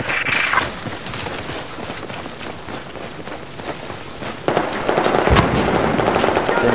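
Crackling gunfire from competitive 5v5 Battlefield 4 play, dense overlapping shots with a louder burst near the end, heard without talk.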